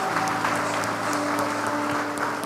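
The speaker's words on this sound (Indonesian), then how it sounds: "Tepuk tangan lagi dong." A congregation at a church service claps together in a steady, sustained round of applause, evenly loud throughout with no talking on top.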